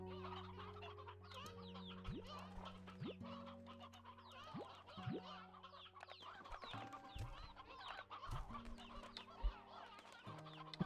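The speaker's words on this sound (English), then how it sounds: "We got a couple sea hens." Sea hens in the video game Slime Rancher 2 cluck softly and repeatedly, a quiet steady stream of short chicken-like calls over a faint, continuous game background with sustained musical tones.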